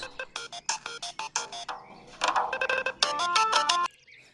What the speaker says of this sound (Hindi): तुम्हारा मोबाइल बज रहा है।